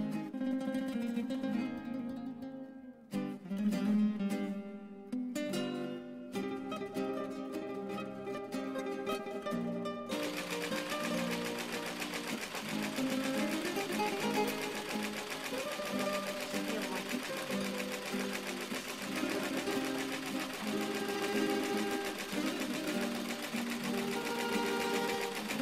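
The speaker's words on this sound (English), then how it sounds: "Run the machine to start embroidering the design for the first block." An embroidery machine stitches a lace design block, its rapid, even needle rhythm running continuously. Brief pauses come early on, then the stitching holds steady and fairly quiet to the end.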